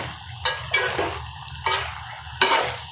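Fish curry with beans and potatoes being stir-fried in a pan, with close scraping strokes of a spatula, about four distinct stirs over a steady low sizzle, and no talk.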